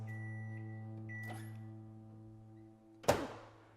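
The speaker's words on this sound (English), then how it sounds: "your dry sponge in the microwave for 2 minutes" A microwave oven hums steadily with a dry sponge inside, a constant droning tone, then a door-latch thunk and clatter at the end.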